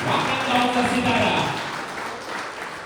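Crowd applause rings out at a Thane district Champions League auction honouring player Ketan Mhatre, a steady broadband clapping that runs throughout, heaviest in the first half under a voice speaking over a microphone, then tapering slightly.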